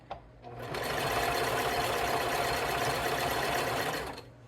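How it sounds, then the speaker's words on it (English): A sewing machine stitches steadily through fabric with a pin in the seam, starting after a short pause and running in a continuous, close, even whir for about four seconds before stopping. "Sometimes, if your machine will do it, it'll skip over the sewing pin."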